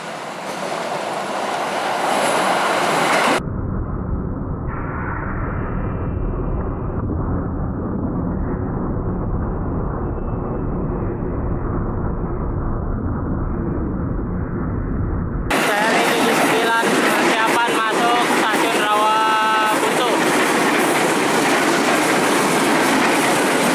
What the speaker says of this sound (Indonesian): Tujuan Tanah Abang JR205 New Livery.